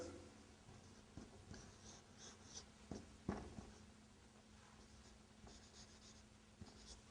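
Marker or chalk writing on a board, heard as faint, scattered scratchy strokes and taps over a quiet room hum, with no talk.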